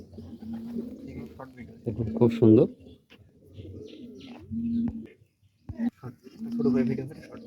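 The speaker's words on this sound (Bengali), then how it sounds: "আউটডোরে যে কবুতরগুলো আছে আসলে সেই কবুতরগুলো আসছে খাওয়ার জন্য" Pigeons coo in soft, throaty bursts close by, coming to feed outdoors, mixed with a few chirps, while a person speaks briefly between the calls.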